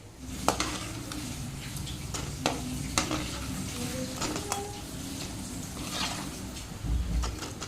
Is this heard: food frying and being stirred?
yes